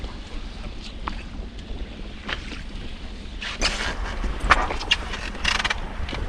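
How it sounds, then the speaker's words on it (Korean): Wind gusting across a fishing boat at sea near Gungchon harbor, a steady rushing roar buffeting the microphone with sharper, louder bursts in the second half and no talk. "바람이 조금 불기 시작해서"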